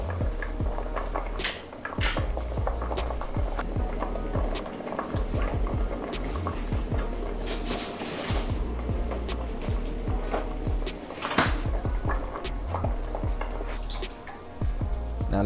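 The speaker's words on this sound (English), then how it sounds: "Now let's go ahead and get that water off of them potatoes, let it drain" Boiled potatoes being drained, a steady rushing splash of water pouring off them that runs continuously for about fifteen seconds, loud and close, with brief clattering knocks of pot or colander scattered throughout.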